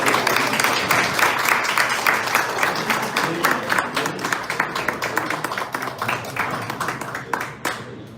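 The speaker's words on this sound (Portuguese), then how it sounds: "Salve de palmas" A round of applause at a Goiânia literary academy ceremony honouring a chair's patron and founder: steady, dense clapping from an indoor audience, strong throughout and tapering slightly near the end.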